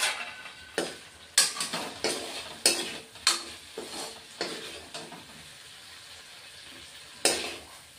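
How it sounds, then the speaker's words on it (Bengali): Raw plantain frying in a pan for a fish curry, heard as a steady sizzle broken by a series of sharp stirring and scraping clatters, close and fairly loud, with no talking. "কলাটা ভেজে নেওয়া ভাজা হয়ে গেছে এখন নামিয়ে দিচ্ছি"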